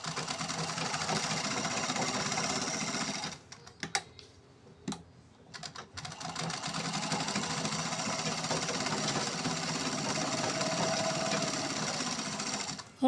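A sewing machine stitches pure cotton fabric along three sides of a blouse sleeve, running in steady, fast, continuous bursts with a brief pause in the middle before the stitching resumes close and loud.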